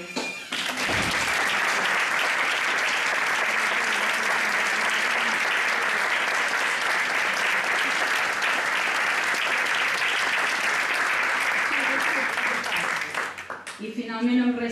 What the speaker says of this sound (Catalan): mereix un fort aplaudiment a Josep Companyó per haver-nos apropat avui a la seva veu.